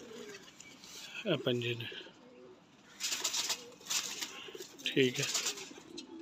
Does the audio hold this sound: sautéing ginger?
no